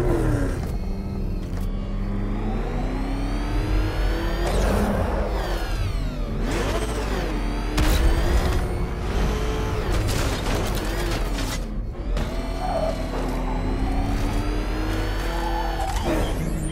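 The Batmobile in Batman: Arkham Knight drives and revs hard, its engine roaring and rising in pitch through repeated accelerations, with mechanical whirs and growling tones layered over a constant loud rumble and no voices.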